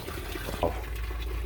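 Water draining steadily from the low point drains of an E-350 Thor RV's freshwater system, a loud continuous rushing gush, close by with no talking.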